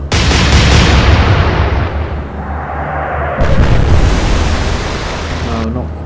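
Naval guns fire a salvo in Atlantic Fleet, two heavy booming blasts a few seconds apart, each with a long rumbling decay, very loud and close.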